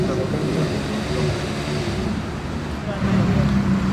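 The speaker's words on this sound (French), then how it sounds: "l'arrivée de la Carrera GT de Raoul" A Porsche Carrera GT's V10 engine arrives on a Monaco street, a steady low, throaty rumble that holds for several seconds and swells slightly near the end, with traffic and voices around it.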